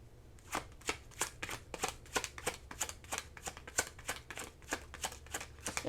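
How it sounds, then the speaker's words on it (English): Tarot cards being shuffled by hand, a quick rhythmic riffle of crisp, close snapping flicks repeating steadily for several seconds with no talk. "So let's get some tarot on this."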